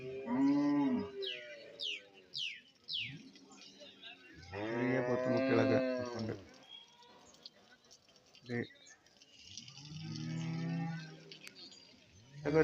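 Buffalo calves and cattle low and moo repeatedly at a busy livestock market, loud and close, while people talk over and between the calls.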